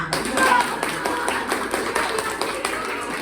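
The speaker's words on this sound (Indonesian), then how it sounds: "mari kita tepuk sangat meriah" A classroom of children claps together in a quick, regular rhythm, a lively, even series of close claps that keeps its pace throughout.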